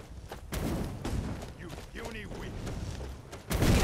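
A fire mage casts attack spells during Skyrim combat: dense rumbling blasts and thuds roll in waves, ending with a louder burst, while in-game voices murmur underneath.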